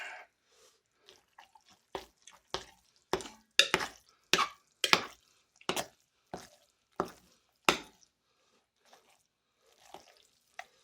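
Sloppy joe mix being stirred by hand with a spoon, giving a series of sharp, irregular scraping knocks against the bowl that cluster in a busy burst and then thin out to a few faint taps.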